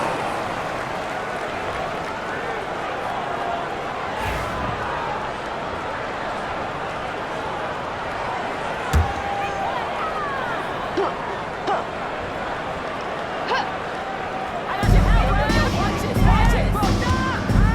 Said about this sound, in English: Please give a big round of applause for your